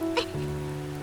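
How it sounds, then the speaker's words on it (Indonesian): Rain falls in a brief, steady patter over a soft background with faint tonal hum, heard alone for about a second. "Hujan, nanti undangannya kebasahan. Sepertinya hujannya tidak lama."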